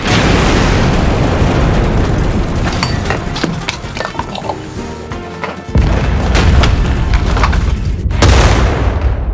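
Video game explosions blasting apart a map, a dense barrage of loud booms and crackling bursts that briefly thins out midway before another heavy run of blasts.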